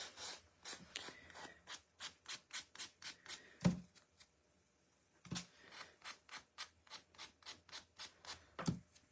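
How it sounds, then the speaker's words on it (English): An MDF piece sanded by hand in quick, steady back-and-forth rubbing strokes, close and fairly quiet, with a short pause midway before the rhythmic scraping resumes. "let's do a little sanding on that"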